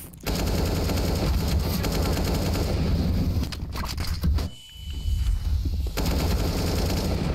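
Rapid, continuous gunfire from the Counter-Strike video game, loud and dense bursts crowding nearly the whole stretch, easing briefly near the middle before resuming, with a faint voice barely present.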